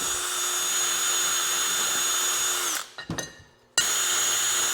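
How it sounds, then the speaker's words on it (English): Power tool grinding paint off a part of a 1982 Honda CB900F during restoration, a loud steady high-pitched whine running almost continuously, briefly dropping out near the end before resuming at full strength. "I've just been grinding this down, taking most of the paint off as much as I can"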